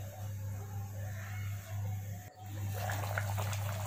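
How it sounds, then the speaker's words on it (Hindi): Water being poured into a pan of ghugni (spiced pea curry) in a home kitchen, a soft steady watery rush under a low constant hum, briefly interrupted and then resuming more brightly. "आठी मु पानी देदेली।"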